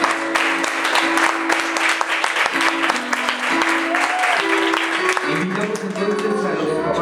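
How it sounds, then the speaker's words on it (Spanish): Loud, sustained applause from guests at a wedding in Cantel, Guatemala, with steady dense clapping throughout and voices and tonal sounds mixed in underneath. "Así que los despedimos con fuertes aplausos en esta mañana."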